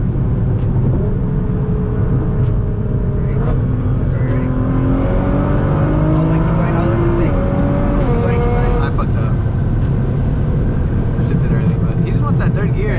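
A flame-tuned Nissan GTR accelerates hard through its gears, the engine note climbing in stepped pitches with a shift between each, loud and close from inside the car.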